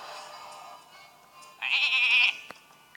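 A sheep bleat sound effect from the Hearthstone card game as a card is transformed into a sheep: a short, bright, wavering bleat over faint game background, followed by a couple of small clicks.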